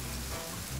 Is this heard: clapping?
no